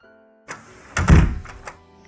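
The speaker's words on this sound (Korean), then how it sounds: "집 문이 닫히자" House door pulled shut: a soft first bump, then a heavy, close thunk with a brief rattle that dies away, in an otherwise quiet room.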